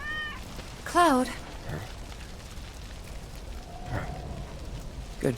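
A cat in the Final Fantasy VII game gives a short, clear meow, then a softer second mew later, over a steady rain-like background hiss.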